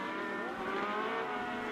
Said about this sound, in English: Oh, he locks up the brakes.